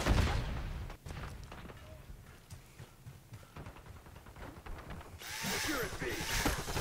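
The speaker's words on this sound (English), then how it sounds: "we're gonna try out the drill and this buffer weight stock" Power drill melee weapon whirring in the video game Black Ops 6, bursts of buzzing mixed with gunfire-like hits, growing louder and harsher in the final seconds.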